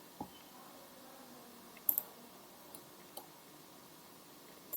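A few sparse, quiet computer mouse clicks, isolated and irregularly spaced, over a faint room hiss while drafting a panelled door in CAD software.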